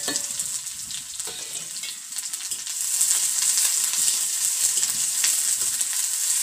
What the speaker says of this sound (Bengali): দিয়ে দিচ্ছি পেঁয়াজ, দেখুন দিয়ে দিচ্ছি পেঁয়াজ।